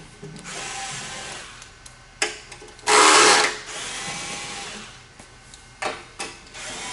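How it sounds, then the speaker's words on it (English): A power tool backs screws out of the rear cover of a Ricoh Ri1000 DTG printer: short whirring bursts, one long loud run in the middle, then a few brief taps, close up and without talking. "So let's go ahead and take out these screws here."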